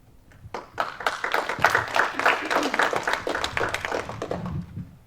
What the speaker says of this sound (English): Let's give them another great big round of applause for all of that work.